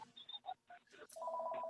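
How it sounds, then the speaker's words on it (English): A phone ringtone goes off close behind someone during a City of Boulder Environmental Advisory Board meeting; a few clipped voice fragments come first, then a steady, moderately loud tonal ring holds through the second half. "my phone is ringing right behind us"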